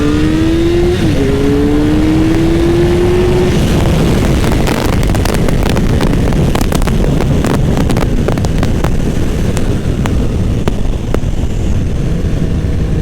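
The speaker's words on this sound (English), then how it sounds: "Hit rev limiter in second." Loud, windy ride-along of a Honda CBR929 or Suzuki Hayabusa motorcycle engine revving hard in second gear up to the rev limiter, a rising tone that cuts off into choppy stuttering bursts under heavy wind buffeting.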